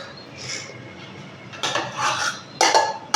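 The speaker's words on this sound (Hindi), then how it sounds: "अब मैं इसमें शामिल कर दूँगी ये सारा चिकन" Chicken is added into a pan and mixed with a metal utensil while cooking a kabab samosa filling, giving a few scraping and clanking clatters that come in short bursts, close up and fairly loud.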